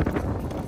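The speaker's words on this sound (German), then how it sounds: "es ist windig, Bro. Ohne Ende." Strong wind buffeting a microphone outdoors during a storm in Berlin, a brief loud low rumble with a broadband rush and no talking.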